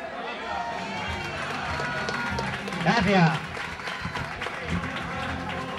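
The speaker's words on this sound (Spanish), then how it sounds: "Fuerte aplauso a Juan" Applause rises at a club award ceremony as honourees are called up, crowd clapping and chatter mixed with a voice speaking over it.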